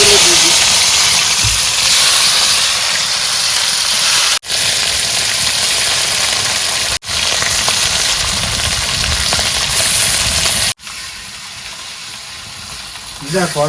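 Loud, steady sizzling of fish frying in hot oil in a kadai, a dense hiss that continues throughout, broken by a few sharp cuts.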